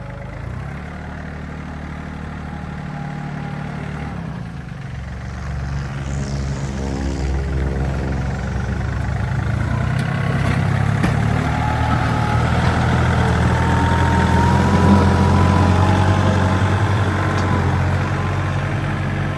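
A used Yanmar EF352T tractor's diesel engine idles in a steady low rumble, close and fairly loud, growing slightly stronger as it runs, with no talking.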